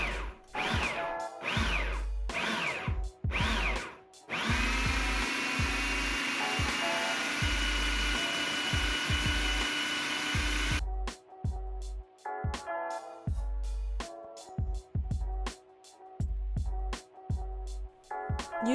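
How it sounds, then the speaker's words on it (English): A blender blitzes a pear and apple mixture in several short pulses, then runs in one long steady whir before more stop-start bursts with pauses between, close and fairly loud. "proceed to blitz and scrape until the mixture is completely blended"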